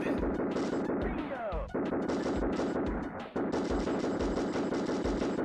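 Rapid video-game gunfire from Super Smash TV fills the soundscape, a dense, continuous rattle of shots and blasts with music beneath, briefly dipping twice before resuming at full intensity, with a voice occasionally audible underneath.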